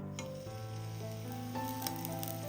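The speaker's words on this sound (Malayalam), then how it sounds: "ഇനി ചൂടായി കിടക്കുന്ന ഒരു കടായിലേക്ക് 1 ടേബിൾ സ്പൂൺ നെയ്യ് ഒഴിച്ചു കൊടുക്കാം." Ghee poured into a hot kadai for papaya halwa, giving a steady close sizzle and frying crackle throughout, with no talk.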